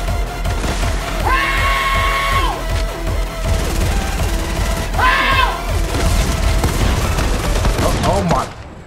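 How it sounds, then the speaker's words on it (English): Heavy gunfire and booming blasts from a rocket launcher in a video game, repeated impacts in dense chaotic bursts over music-like tones, loud and near throughout. "Rocket launcher."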